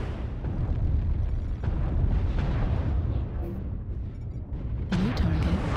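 Incoming missiles striking and exploding in a mech combat video game, heavy rumbling blasts rolling one into another, with a sharper burst near the end.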